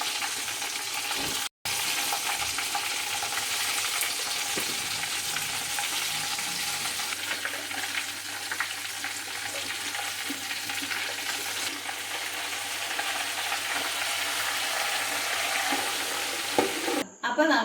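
Catla river fish fries in hot oil with curry leaves, a loud, steady, close sizzle that runs continuously with only a momentary drop near the start.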